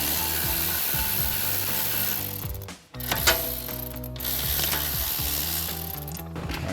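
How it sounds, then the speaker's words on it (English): A hand ratchet with a 13mm socket backs out brake caliper bolts on a 2009-2023 Dodge Challenger. Close, rapid clicking runs in quick bursts, broken by a brief pause near the middle. "So I'll have my ratchet, 13mm socket."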